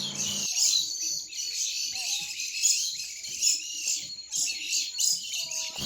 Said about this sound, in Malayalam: പിന്നെ അവിടുത്തെ പ്രത്യേകതകളിലൊന്നാണ് അവിടുത്തെ കിളികൾ കേട്ടോ.